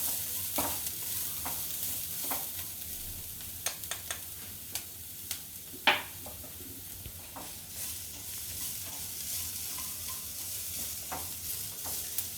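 Steady stirring of a spiced banana tikki mixture frying in a pan, with red chilli, chaat masala and salt going in, a soft continuous sizzle broken by scattered spoon scrapes and clicks, close and alone.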